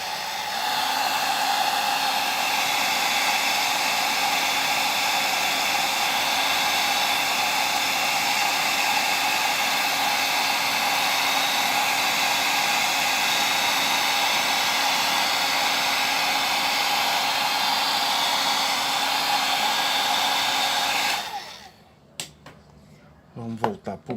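A hair dryer blows steadily and loudly on a painted miniature wheel from a battle car model, a continuous even whoosh with a faint tonal whine that cuts off abruptly near the end, leaving a few small clicks.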